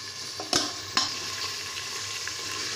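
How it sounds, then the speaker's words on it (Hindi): Onions sizzle steadily in hot oil in a pressure cooker on a gas stove, with a couple of sharp clanks of a utensil against the pot early on. "गैस पर हमने कुकर रख दिया है, ऑयल डाल दिया है। अब इसमें प्याज डाल देंगे।"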